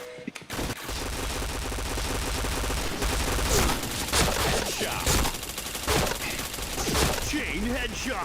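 Rapid automatic gunfire from a shooting video game, dense and continuous bursts over several seconds with a few sharper individual shots, while a voice speaks over it.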